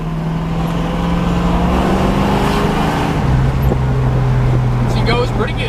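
A 1965 Ford Mustang Hertz tribute with a C4 transmission drives along, its engine droning loud and steady from inside the cabin with road noise and a shift in pitch partway through.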